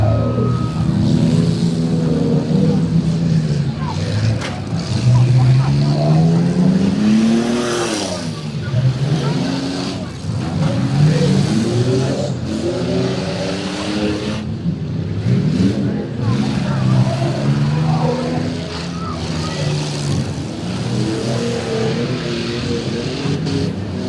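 Demolition derby cars at the Pennington County Fair, engines revving loudly and continuously with rising and falling pitch and steady rough roar, while an announcer's voice talks over the noise.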